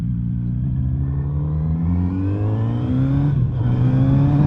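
A 2021 Kawasaki Z900 RS retro motorcycle, Euro 5 compliant, roars steadily while being ridden, its exhaust note rising in pitch through gears with a brief shift dip, loud and continuous with no talking.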